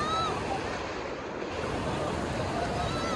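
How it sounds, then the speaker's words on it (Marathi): Big ocean waves crash and surge at a beach in Shrivardhan during rainy weather, a loud, continuous roar of surf with wind buffeting the microphone. "लाटा खूप मोठी आहे"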